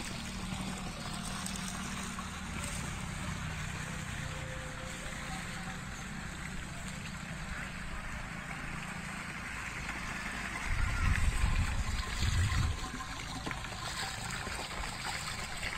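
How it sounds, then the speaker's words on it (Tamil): A pot of water is poured into a buttermilk crop-spray solution. The result is a steady, close splashing and trickling wash that swells louder near the end, with no talking. "1 குடம் தண்ணி ஊற்றுறோம்"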